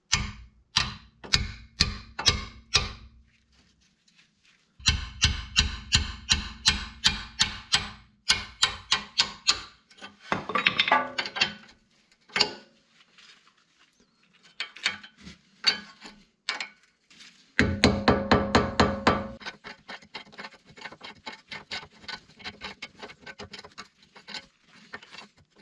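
Metal clicking and ratcheting as a rusty part is worked loose with a 6mm Allen key and a wrench, heard in close, uneven bursts of rapid ticks separated by short pauses.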